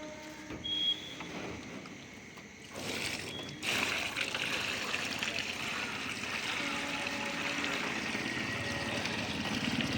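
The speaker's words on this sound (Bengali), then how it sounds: "বাদবাকি রসটাও ছেঁকে ওনারা যে ট্রেতে জাল দেবেন সেই ট্রেতে পুরো ডাইরেক্ট ঢেলে দিলেন" Fresh date palm sap is poured straight into a wide tray on a winter morning, making a steady splashing, trickling stream that starts a few seconds in and carries on close and moderately loud.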